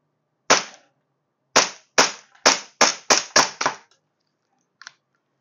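A pink gas airsoft pistol fires seven sharp, loud shots at uneven intervals, the last few in quicker succession, followed by a faint double click, with silence in between.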